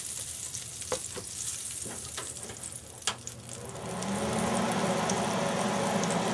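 Crisco and Smart Balance butter-flavor spread sizzling in a pan as they are stirred together, close scraping taps at first, then a louder, steady hiss of hot fat filling the second half.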